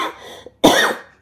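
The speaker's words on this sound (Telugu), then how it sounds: "నాకు ఇంకా దగ్గు తగ్గలేదు, అందుకని మధ్య మధ్యలో దగ్గు వస్తుంది" A person with a lingering cough lets out one sharp, close cough, preceded by a faint throat noise.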